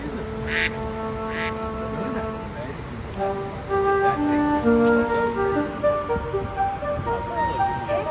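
A duck quacks close by, outdoors at a child's birthday gathering, with people talking around it throughout.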